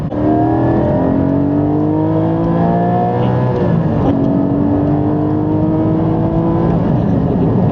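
A Porsche 718 Cayman GT4's engine roars close up as it accelerates hard, pitch climbing through the gears with a brief shift midway, loud and continuous.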